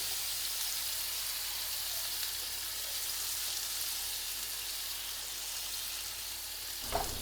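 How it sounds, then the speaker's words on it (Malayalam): King fish fillets shallow frying in a pan, a soft steady sizzle throughout, fairly faint and even, with a brief clatter near the end and no talking. "അപ്പൊ നമുക്ക് നമ്മുടെ ഫിഷ് ഒന്ന് ഷാലോ ഫ്രൈ ചെയ്തെടുക്കാം കേട്ടോ"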